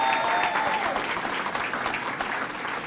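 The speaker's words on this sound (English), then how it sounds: "A round of applause to all of our recipients." An audience at a college service awards ceremony applauds the recipients, a full sustained round of many hands clapping, loud at first and easing slightly, with a voice faintly audible early on.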